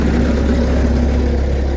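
A diesel skid steer idles to warm up in winter, a steady, loud, close low rumble that holds even throughout with no change in pace.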